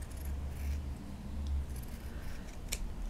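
Scissors trimming a fabric heart for a hand-stitched cushion, a few soft close snips over a low background hum, with no speech.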